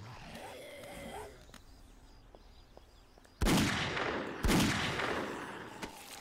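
Two loud, sharp gunshots from the video game 7 Days to Die (Alpha 11.4), about a second apart, each with a long decaying tail, following several seconds of quiet outdoor ambience.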